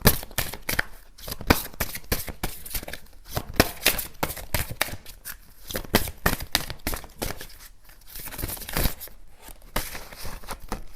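Tarot cards shuffled by hand, dense riffling and flapping bursts that repeat continuously, close and fairly loud, with no talking.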